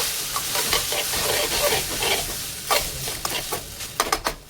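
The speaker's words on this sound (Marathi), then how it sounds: "आता यात मी ॲड करणार आहे नूडल्स, आपण जे बॉईल करून घेतलं. नूडल्सला सुद्धा मिक्स करून घ्यायचं." Boiled noodles being stir-fried and tossed with vegetables in a pan for street-style veg Hakka noodles: a steady, close sizzle broken by repeated scraping and stirring strokes that grow sharper toward the end.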